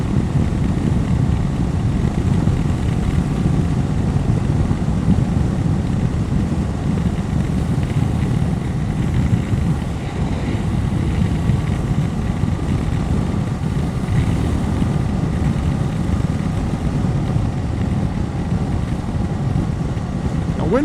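BMW F750GS motorcycle riding at speed on a motorway, with a steady, loud engine drone mixed with heavy wind rush that holds constant throughout.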